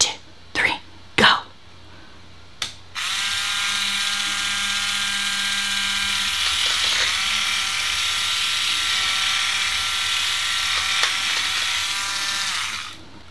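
A Roto Clipper electric nail trimmer runs on a nail: a few coughs and throat-clears first, then a steady, close, high-pitched electric whir that holds for about ten seconds before it stops.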